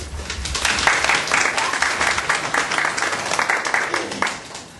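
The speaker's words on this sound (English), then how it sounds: "Give her a round of applause, please." An audience at an evening justice forum applauds steadily, a dense wash of clapping that holds for several seconds at moderate level.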